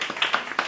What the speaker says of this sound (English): let's clap hands for it